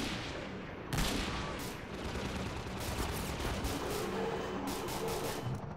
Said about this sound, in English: I think when I shoot one in the head, it goes through and hits the other guys.